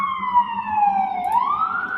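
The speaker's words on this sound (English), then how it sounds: "I'm always distracted by sirens." An emergency vehicle siren sounds outside, a steady wailing tone that dips and then rises again, fairly loud and continuous with no voices over it.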